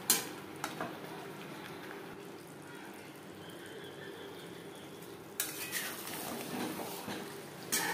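Potatoes fry in mutton fat over a high-medium flame, a soft continuous sizzle with occasional stirring scrapes and clinks, the hiss rising louder in the last few seconds.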